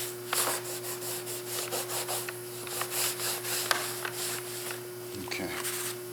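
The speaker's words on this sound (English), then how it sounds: "I will go over it with a clean rag" A clean rag rubbed over Volkswagen door fabric being cleaned with lacquer thinner, rhythmic scrubbing strokes repeated close by over a steady electrical hum.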